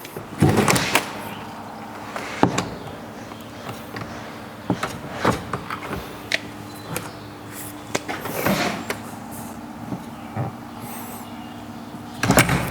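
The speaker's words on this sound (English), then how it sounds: "Checking this door for level." A door in a newly framed house is checked for level and handled, giving off scattered knocks, sharp taps and short scraping or sliding movements at irregular intervals, with quiet pauses between them.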